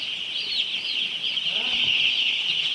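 Three-day-old broiler birds under gas brooder heat fill a shed with a dense, continuous chorus of high chirping, and occasional lower clucks sit close underneath it.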